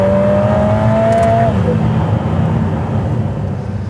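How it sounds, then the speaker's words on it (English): A Lotus Emira's four-cylinder engine climbs toward its 7,200 rpm redline with a zingy, fizzy wail, loud and close, the rising tone peaking then dropping away into steady engine drone. "a lovely zingy fizzy Honda VTEC style wail sets in"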